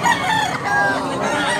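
A year-old Harold Brown Grey gamefowl rooster crows once, close and loud, a short strained call filling the moment with faint background noise.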